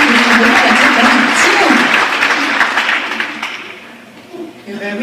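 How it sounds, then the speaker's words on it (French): An audience at a New Year's wishes ceremony breaks into a loud burst of applause mixed with voices, and the clapping thins and fades over several seconds before a speaker begins talking near the end. "je pense qu'on peut l'applaudir"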